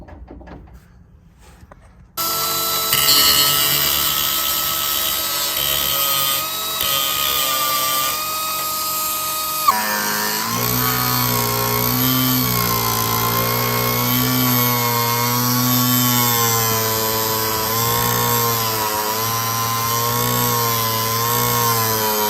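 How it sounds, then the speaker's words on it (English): Power tool grinding off bolts on the side of a Land Rover Defender LT230 transfer box, a loud sustained harsh whine with wavering pitch that drops in tone partway through, running continuously after a brief quiet start, no talk. "finally I had to grind off all these bolts on the side"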